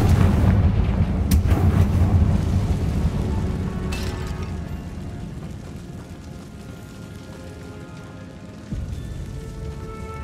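A Confringo fire spell in Hogwarts Legacy goes off in a stone catacomb, a heavy, roaring explosion that starts loud and slowly fades into a long rumbling, crackling tail, with a brief swell near the end.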